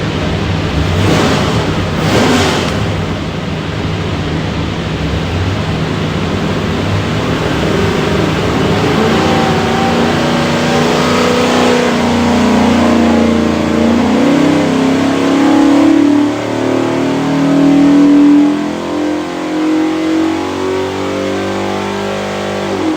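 A 408 stroker Ford V8 built for a 1994 Ford F150 truck, fitted with a Canton rear sump oil pan, revs on an engine dyno in one long, loud run, climbing steadily in pitch with no talking.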